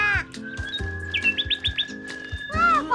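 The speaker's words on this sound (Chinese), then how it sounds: "哇，黄鹂鸟在和我们说话呢。" A cartoon oriole sings in an animated series, bright repeated chirps and rising whistled trills in quick bursts, fairly loud and close, with clicking, knocking accents between phrases and no talking.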